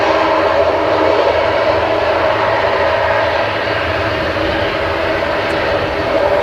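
A Eurowings Airbus A320neo arriving at Manchester Airport produces a steady jet engine roar with a sustained whine, loud and close at first and easing slightly toward the end, heard alone.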